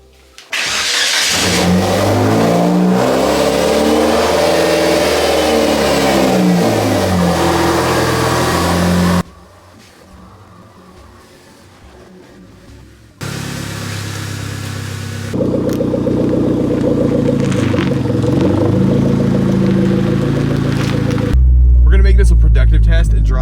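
A Hyundai Genesis Coupe engine, loud and close, revving and accelerating with shifting rising and falling tones, a brief quieter stretch midway, then building again toward a heavy low rumble at the end.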